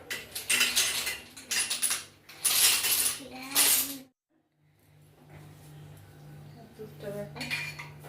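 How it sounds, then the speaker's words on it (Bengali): Batasa sugar drops poured into thickened milk for payesh give loud clattering bursts against the pot, then a pause, then quieter stirring and bubbling close by. "দুধটা আরও ঘন হয়ে এসছে, তাই দিয়ে দিচ্ছি 2 কিলো বাতাসা।"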